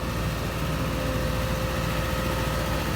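An excavator's diesel engine running steadily in a low, continuous rumble, moderately loud and with no voices.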